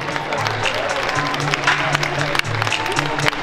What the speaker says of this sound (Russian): Спасибо, аплодисменты парам.